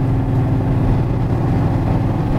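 A 1966 Chevrolet Chevelle SS396 big block with a Flowmaster exhaust idles close by in a loud, steady, low throb. The pulsing rumble holds even for the whole moment.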